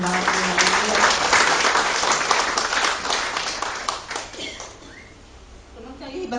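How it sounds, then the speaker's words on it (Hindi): A church congregation claps hands together in sustained applause during a worship service, loud and dense at first, then thinning and fading toward the end. "क्यों ना कलेशिया हम ताली बजाएं कि प्रभु को धन्यवाद।"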